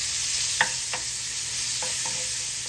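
Onions tossed into hot oil in a skillet sizzle steadily, with a few sharp clicks and scrapes of stirring over the continuous frying hiss; no voices.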